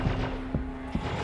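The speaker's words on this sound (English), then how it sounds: "I'm hearing gunfire." Gunfire in the video game Star Citizen comes as about three muffled thumping shots spaced roughly half a second apart, sounding distant against a steady low background hum.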